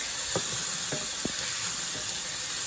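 About two tablespoons of garlic sizzle in a pan over medium heat, a steady close hiss with a few faint clicks and no talking.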